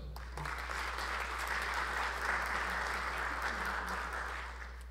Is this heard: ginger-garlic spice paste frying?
no